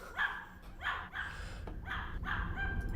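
A small dog barks repeatedly indoors, five or six sharp yelps in a fairly steady rhythm at moderate distance, with a low background hum between them.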